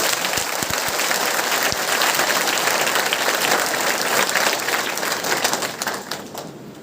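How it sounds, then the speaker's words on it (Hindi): Girls clap together at a school outreach event in Sondwa, a dense, steady burst of applause that holds for several seconds before thinning out at the end, with no talking over it. "हमारी बेटियाँ तालियां बजाकर उन सभी का"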